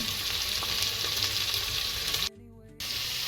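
Vegetables sizzle steadily in oil in a pan for veg pulao, a loud continuous frying hiss that cuts out briefly near the end before resuming.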